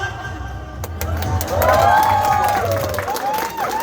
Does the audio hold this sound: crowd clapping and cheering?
yes